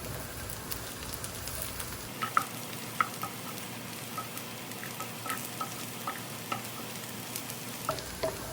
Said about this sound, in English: we'll add the cashews and the almonds and fry them also together with the onion